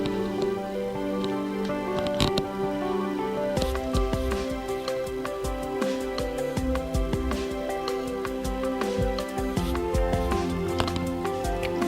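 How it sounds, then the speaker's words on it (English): Electronic music arrangement built in Magix Music Maker, with a steady drum beat under sustained strings and keyboard chords, playing loud and continuous with no talking. "we've got a drum beat. So we've got some strings, we've got some keys, and we've got some drums."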